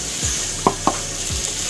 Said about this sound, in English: and then we stir them a little bit